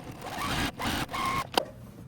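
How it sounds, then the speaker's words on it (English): Sewing machine stitching quilt fabric in two short bursts of whirring, close and moderate, with a brief click between them. "It naturally wants to fold on this line, and then I'm going to sew it."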